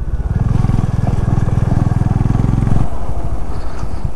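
A Honda CB 350 motorcycle being ridden gives a close, throbbing engine putter that runs steadily, then shifts to a looser, rougher rumble near the end.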